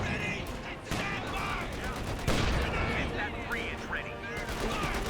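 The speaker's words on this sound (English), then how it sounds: "the pack howitzer firing in support as well" Gunfire and pack howitzer shots from the real-time strategy game Company of Heroes 2 in a US versus OKW 1v1 match, with bursts of machine-gun and rifle fire under continuous commentary.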